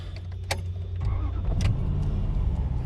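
A car engine cranks and catches on a cold morning during a road trip, settling into a low steady idle after a few seconds, close and fairly loud with small clicks before it starts.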